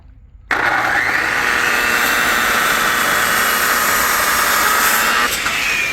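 A Bosch power tool starts abruptly and whines at a loud, steady pitch while cutting dados in a pressure-treated 4x4 for bench legs, then winds down slightly near the end.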